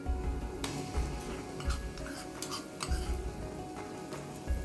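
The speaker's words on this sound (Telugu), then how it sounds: "ఈ పచ్చివాసన అంతా పోయే వరకు దీన్ని లో ఫ్లేమ్లో ఫ్రై చేయాలి" Onion masala with ginger garlic paste frying on a low flame for Telangana-style fish curry, a soft steady sizzle with occasional ticks and stirring scrapes of a spoon in the pan.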